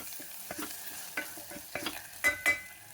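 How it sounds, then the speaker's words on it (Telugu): Chilli powder and spice mix frying in a pan for a bottle gourd and chana dal curry, a steady soft sizzle broken by scraping spoon strokes that grow sharper toward the end. "బాగా వేగాలి ఇది"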